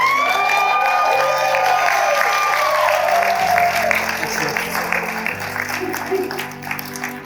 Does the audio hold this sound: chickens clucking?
no